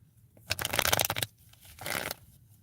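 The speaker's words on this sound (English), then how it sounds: "I'm shuffling now." Tarot cards being shuffled in two bursts: a long rapid riffle of crisp card flutter, a short pause, then a second softer shuffle, close by and alone.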